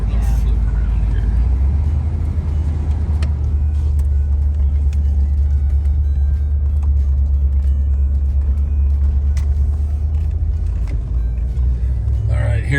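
A classic Mark Cross edition car driving at about half throttle, its low engine rumble steady and close throughout, with road and wind noise layered on top and people talking over it.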